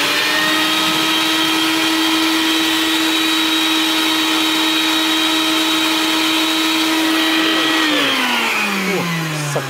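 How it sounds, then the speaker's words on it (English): A wet dry vacuum switches on and sucks aquarium water, a loud, steady whining roar held for several seconds that drops in pitch near the end as the load changes and the motor winds down. "I want to show you how effective and how quickly the wet dry vac is"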